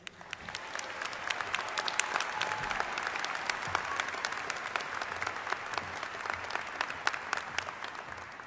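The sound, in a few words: audience applause for graduation speaker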